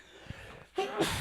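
A person sneezes once, a sharp burst after a brief inhale, close to the microphone in a conversation between podcast hosts.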